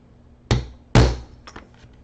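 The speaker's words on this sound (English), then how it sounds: "Sometimes I have to tap it a little bit." Two sharp, solid taps a half second apart from an eyelet setting tool pressing a metal eyelet through paper, followed by a couple of fainter clicks, close up in a quiet room.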